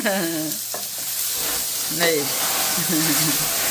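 Rice stir-fried in a pan sizzles and hisses steadily with stirring scrapes throughout, a voice talking over it in places.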